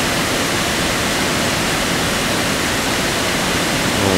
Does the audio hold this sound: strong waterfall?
yes